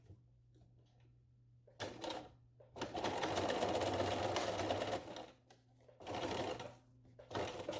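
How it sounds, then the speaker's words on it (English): Sewing machine stitching fabric edges for a mask, loud rattling bursts of stitching separated by short pauses, with a low motor hum in the gaps. "Now back at the sewing machine, I'm gonna start stitching the"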